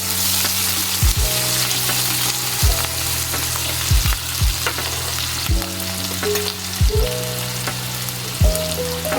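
Onion paste sizzling in a hot pan for a koi fish curry, a steady close fry hiss broken by several sharp scraping stirs across the pan.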